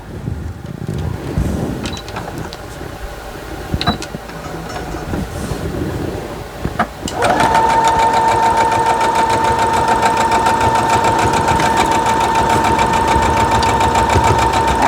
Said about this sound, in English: Put it back under the sewing machine and get to going.